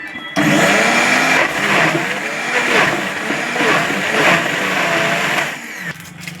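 An electric blender whirs loudly while blending an Oreo milk shake with fresh milk, its motor starting abruptly, churning with wavering pitch for several seconds, then cutting off.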